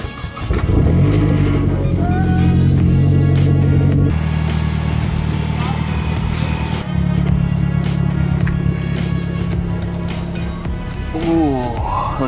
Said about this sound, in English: Give this baby a spin,